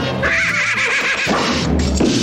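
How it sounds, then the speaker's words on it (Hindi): A horse in a Hindi action-comedy film gives a loud, close whinny that rises and then breaks into a rough, falling neigh, standing alone over a background soundtrack. "तूफान एक सुपरनैचुरल घोड़ा है जो बेवड़ा भी है।"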